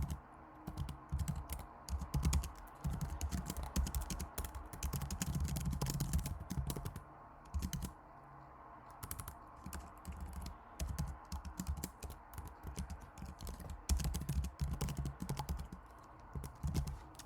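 Steady clatter of keys on a computer keyboard as code is typed, fast irregular bursts of clicks with brief pauses, close and fairly loud throughout with no talking.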